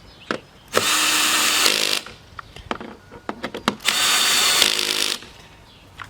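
A power driver whirs in two sustained bursts while tightening bolts on a Sun Joe dethatcher, with short trigger blips and clicks in between, loud and close.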